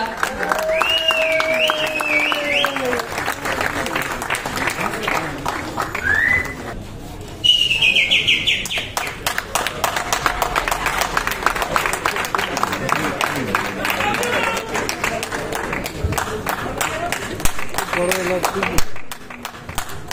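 Crowd applause at a film audio launch event as a guest is called to the stage, continuous clapping over music and a speaking voice, with bird-like chirps mixed in.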